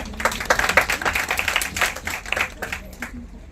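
Audience clapping at a district-level science quiz in a college hall, a scattered round of hands with sharp individual claps rising and thinning out, voices talking over it.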